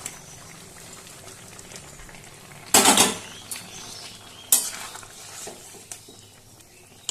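Spongy dhoka lentil cakes going into a pot of thick, simmering gravy: two sharp clattering bursts of pieces and utensil against the pan over a steady low bubbling, with no talking.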